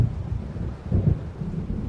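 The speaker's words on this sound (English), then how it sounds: "It seems there's a storm coming." Low rolling thunder from an approaching storm by the sea in Alan Wake Remastered, a deep steady rumble swelling once around the middle, with no talk.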